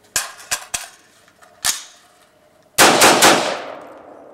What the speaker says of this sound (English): Dump this mag out while you got it.